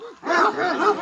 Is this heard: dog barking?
yes